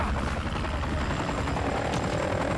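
A helicopter in the Call of Duty: Modern Warfare 3 campaign gives off a steady, dense rotor and engine drone that holds evenly throughout, close and loud, with no other sounds breaking through.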